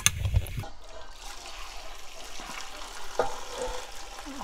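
Chicken broth from a pot of chicken simmered about 40 minutes, poured out for Korean chicken rice-cake soup, a soft watery splash at the start followed by a quiet trickle and faint clinks.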